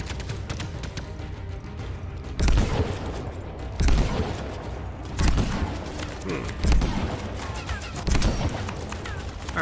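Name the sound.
gunfire in video game Anthem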